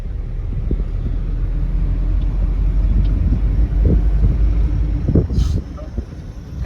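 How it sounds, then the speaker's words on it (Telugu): An Audi car passes on a street in India, its low engine rumble building and fading amid surrounding traffic noise, with brief sharper hiss and clatter near the end. "ఆడి కార్ అంట గైస్, చూద్దాం."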